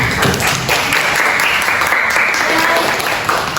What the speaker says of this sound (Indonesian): tolong beri tepuk tangan kepada teman-teman yang 2 ini yang mau mengisi